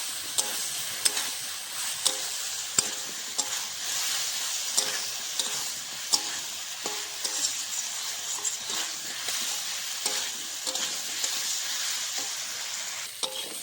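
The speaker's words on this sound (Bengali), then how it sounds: "সবজিটা ভালো করে মশলার সঙ্গে কষিয়ে দিয়েছি" Kohlrabi sautéing with spices and chilli powder in a pan, a steady soft sizzle broken by a regular rhythm of spoon scrapes and taps as it is stirred, close and alone.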